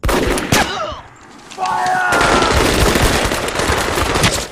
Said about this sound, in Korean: 습격을 알리는 총알 소리가 들리자